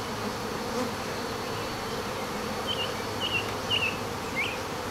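Honey bees buzz steadily and close during a hive inspection of a yellow hive, a dense continuous drone with a few louder passes of single bees near the ear.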